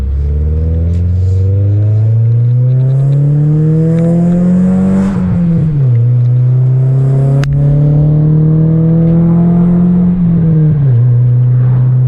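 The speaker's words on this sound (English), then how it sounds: "Just a little spirited driving." A car engine revs loudly and continuously during spirited driving, pitch climbing and dipping twice as gears shift, close and dominant throughout, with a raspy tone from an unplugged O2 sensor.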